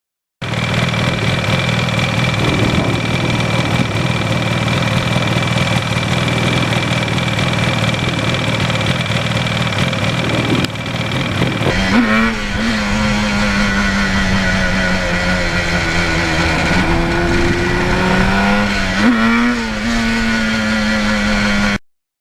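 Loud 1977 Yamaha RD400 motorcycle engine running steadily, then revving up in first gear with rising and falling pitch as the throttle opens, close and continuous.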